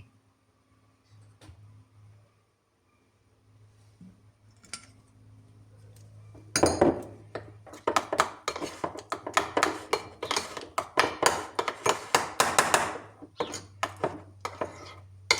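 Kimchi ingredients with oyster sauce and sugar being mixed in a bowl, a run of rapid close clinking, scraping and tapping of utensil against the bowl after a quiet lead-in with a low hum.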